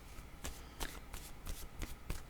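Tarot cards being shuffled by hand, with quick riffling bursts in a steady rhythm of about five strokes. The sound is close and soft, with no voices.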